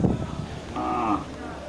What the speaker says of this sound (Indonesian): Ini juga terlihat banyak jenis sapi Aceh.